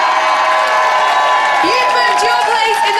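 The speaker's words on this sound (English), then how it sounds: "But a massive round of applause for David" A studio audience at a Gladiators 2009 semi-final roars with loud, sustained applause, cheering and whoops, while a voice rises through the dense crowd noise.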